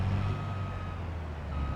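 A truck's reversing alarm beeps steadily over a low rumbling engine idle in the Farming Simulator 22 video game, close and continuous, with no talking.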